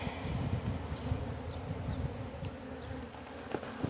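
Bees buzzing steadily in a hive inside an underground utility box, a dense continuous droning hum close by with faint scattered clicks and rustles.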